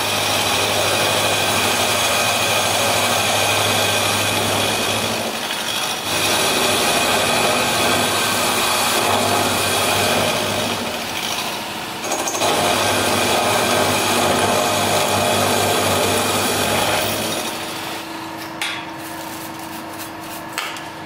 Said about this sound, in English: I have to mill out that bit of section there